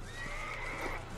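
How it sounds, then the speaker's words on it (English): A mythical horse from the Red Dead Redemption Undead Nightmare video game lets out a single drawn-out neigh, a close whinny held steady for about a second over quiet background hum. "I just want a mythical horse."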